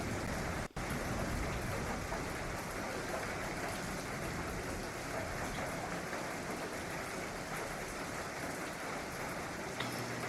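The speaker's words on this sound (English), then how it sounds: "taking you back into the noise of thunder and rain" Steady rain pours down in a dense, unbroken hiss that stays loud and close throughout, with no clear thunder rumble standing out.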